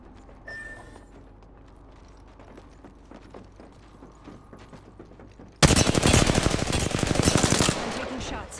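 Rapid automatic gunfire from an Apex Legends match starts abruptly partway through and rattles on loud and dense to the end, after a quieter stretch of scattered game noise and faint clatter.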